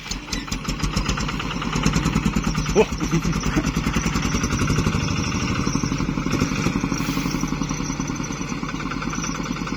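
A heavily loaded motorcycle engine labors in a low slow gear with a slack belt, a steady throbbing rumble running loud and close throughout, with some voices faintly mixed in.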